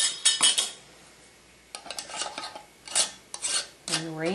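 A metal lid and screw ring are set onto a glass jar, with a short run of metallic scrapes, clinks and rubbing near the mic, separated by brief pauses, and a ringing scrape at the end.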